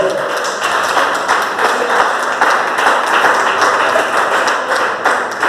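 A church congregation claps in praise during a service, producing a loud, dense wash of many hands at once. The clapping holds steady from start to finish, with a voice faintly underneath.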